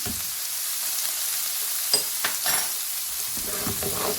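Onions fry in a pan for an eggplant and potato masala, making a constant bright sizzle with a few soft stirring scrapes and spatters in the middle.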